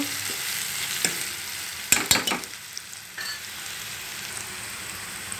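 Ivy gourd curry fries in a pan as turmeric is stirred in, a steady sizzle broken by a cluster of sharp spatula scrapes and clatters near the middle, then a quieter continuous fry.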